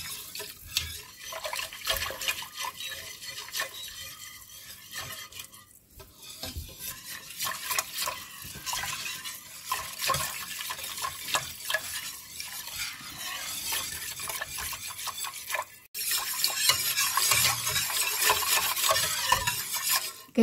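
Rice with béchamel white sauce being stirred in a pan, a close, continuous scraping and wet stirring, with louder clatter near the end.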